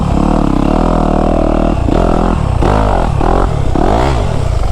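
Motocross dirt bike on a backyard MX track, engine loud and close throughout with repeated rises and falls in revs as the rider works through the lines, no talking over it.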